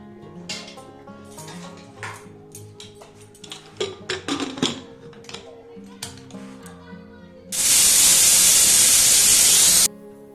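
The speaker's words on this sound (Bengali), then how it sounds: "এবার এটা আমি দুটো সিটি মেরে নেবো" A pressure cooker whistle releasing steam while cooking a banana flower dish, a loud sustained broadband hiss of about two seconds that cuts in sharply after clattering pots and utensils and a voice.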